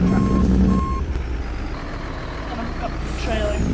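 A semi truck's reversing alarm beeps twice in a steady rhythm over a loud, continuous diesel engine rumble, followed by a brief burst of air hiss.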